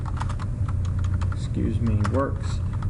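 Keys clatter on a computer keyboard in quick, light taps while a word processor page is set up, with a voice talking over part of the typing.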